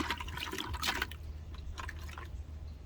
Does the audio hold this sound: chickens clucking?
no